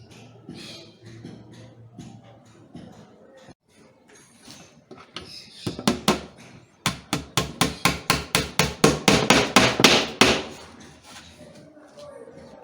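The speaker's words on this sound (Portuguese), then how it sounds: "Aí agora eu venho com o prego." A nail is hammered into wood on a children's wooden play kitchen after drilling a pilot hole, about fifteen sharp, close strikes in a quickening rhythm that grows louder, preceded by quieter handling noises.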